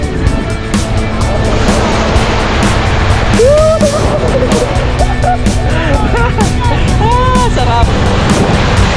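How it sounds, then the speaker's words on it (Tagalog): Rough ocean surf surges loudly and continuously at Patar Beach in Bolinao, Pangasinan, a steady broadband roar of breaking waves close by, with scattered voices and shouts over it. "Grabing alon yan."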